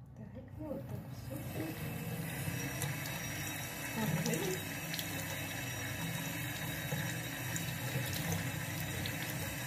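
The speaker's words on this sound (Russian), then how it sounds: "мы сейчас его пойдем ополоснем под водичкой" Tap water runs steadily over a pink rhodonite stone as it is rinsed, a continuous close splashing stream with no break across the whole stretch.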